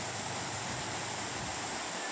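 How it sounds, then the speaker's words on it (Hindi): Heavy rain pours down in a dense, steady hiss, loud and unbroken over a short stretch, with no voices heard. "तो काफ़ी ज़्यादा हो रही है, बहुत ही ज़्यादा बारिश।"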